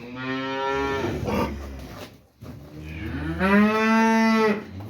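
A cow moos twice, long drawn-out lowing calls close by, the second louder and more tonal than the first.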